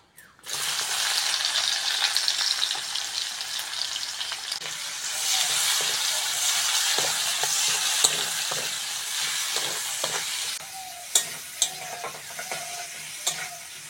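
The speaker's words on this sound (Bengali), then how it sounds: "পেঁয়াজ ভেজে নিয়েছি" Chopped onion frying with panch phoron in oil: a strong, continuous sizzle that rises early and holds, punctuated by spatula taps and scrapes, softening toward the end with a few sharper knocks.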